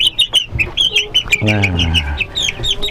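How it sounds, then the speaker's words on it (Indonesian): Black ayam jali chickens on a village poultry farm, clucking and chirping close by in quick repeated calls, with a longer drawn-out call in the middle and a man's brief word at the start. "ini ayam jali namanya. Ayam jali. Jali hitam."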